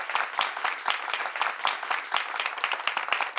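A studio audience at a TV debate show claps in a lively, fairly close burst of applause with a slightly rhythmic pulse, holding steady throughout.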